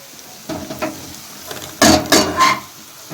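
Green chillies sizzle and crackle in a pan as they are stirred, with a few sharper scraping, frying bursts near the end. No one speaks.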